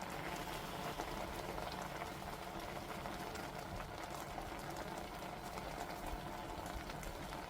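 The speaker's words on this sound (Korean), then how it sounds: "이렇게 지금 김치가 한 소끔 끓고 있죠" Kimchi stew bubbling steadily in a pot, a dense, constant simmering hiss and gurgle that stays level throughout with no speech.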